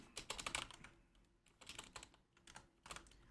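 Close fingers type quickly on a computer keyboard, entering a country name on a website in irregular bursts of clicks with short pauses between them. Quiet and alone, with no talking.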